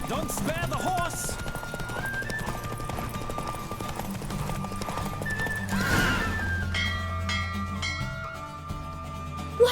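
A horse in The Witcher 3: Wild Hunt gallops with quick rhythmic hoofbeats and whinnies partway through, under busy music, ending in a sudden sharp sound.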